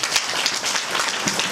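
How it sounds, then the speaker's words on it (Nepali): Applause at a wedding ceremony, a short burst of many hands clapping together at moderate loudness, steady broadband clatter with no voices over it. "ताली बजाए दें"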